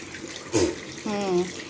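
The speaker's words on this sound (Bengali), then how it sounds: "ব্রাশটা ধুয়ে নাও, ধুয়ে নাও, ধুয়ে নাও।" A tap runs as a child rinses a toothbrush, a soft steady wash of water with a brief splashy burst, while a voice briefly rises over it.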